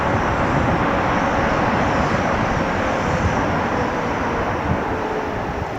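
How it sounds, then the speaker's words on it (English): A Korean Air Boeing 787-9 airliner arriving from Seoul at Dallas-Fort Worth International Airport produces a loud, continuous jet engine roar with a faint steady whine, sustained for the whole stretch with no voices. "That's Korean Air Flight 31 coming in from Seoul."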